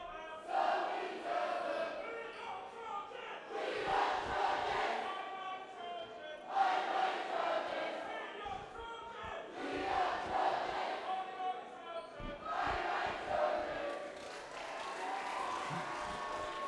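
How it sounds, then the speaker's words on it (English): A crowd at a high school boys' varsity basketball game between Petaluma and Sonoma Valley chants and cheers in loud rhythmic waves, with sneaker squeaks and thuds from the court beneath. "I was really liking that chant."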